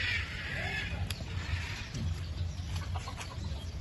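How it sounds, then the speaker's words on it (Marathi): A rooster at an animal park in Thailand clucks in short repeated bursts against a steady, loud background hum and ambient noise. "आणि आपलं कोंबडं पण आहे ना या"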